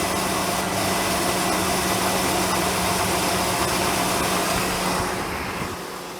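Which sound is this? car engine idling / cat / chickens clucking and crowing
car engine idling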